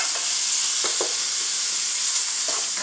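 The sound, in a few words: garlic and onions sizzling in butter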